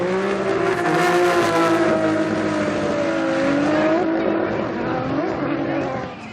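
Formula Drift Japan drift cars, a Good Ride C34 and an E92, roar loudly and steadily with sustained high revving engines and tire squeal close by, a voice talking over the noise.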